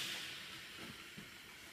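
A Morphy Richards Comfigrip steam iron with an Ionic Trizone soleplate releases a steady, soft hiss of steam, with a couple of faint low thumps partway through.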